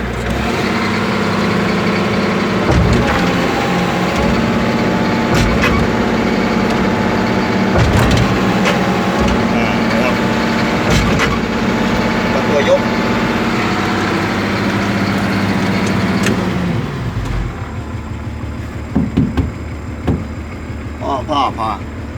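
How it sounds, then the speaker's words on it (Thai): A Kobelco backhoe excavator's diesel engine runs loud and close, with a steady drone broken by periodic mechanical knocks and clunks, then drops toward a lower idle near the end; someone talks over it. "จะเร่งเครื่องครับเร่งเครื่อง"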